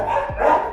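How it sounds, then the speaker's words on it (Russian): Several dogs of fighting breeds bark in a state-run animal shelter in Miami, a loud close burst of overlapping barks and yips. "Очень много собак, таких бойцовских пород."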